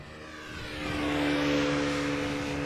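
An EasyJet Airbus A320neo at Amsterdam Schiphol produces a swelling engine roar with a steady tonal whine that builds over the first second and then holds loud and sustained.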